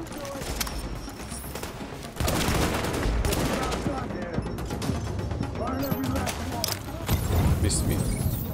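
Rapid bursts of rifle gunfire from The Division, dense and fairly close, with shots overlapping in a continuous clatter and brief pauses. A voice talks over the shooting.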